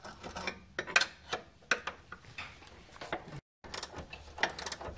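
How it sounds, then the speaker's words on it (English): Ratcheting clicks and metallic ticks from a scooped 14 mm wrench loosening a bolt on a Chevy Aveo rear axle, quiet and close, in irregular bursts with a brief gap. "using a scooped 14 mil wrench here to take this one out"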